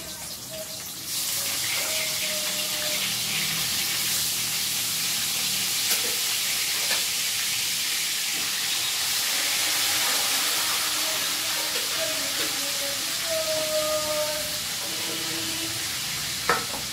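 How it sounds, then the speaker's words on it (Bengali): Cut pieces of rohu fish fry in a pan, a loud steady sizzling hiss that starts abruptly and carries on evenly, with faint tones and clatter in the background. "একটু কাটা পোনা মাছটা ভেজে নিই"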